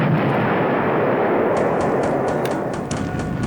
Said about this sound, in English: they always explode these torpedoes